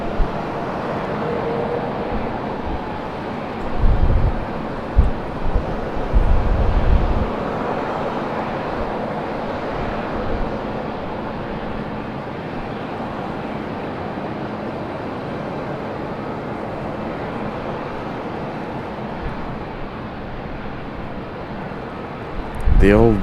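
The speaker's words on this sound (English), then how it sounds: "There we go, JetBlue getting a move on." A JetBlue Embraer E190 jet airliner moves on the ground at Raleigh-Durham International Airport, a steady, loud, broad engine roar that holds throughout, with a few heavier low thumps early on.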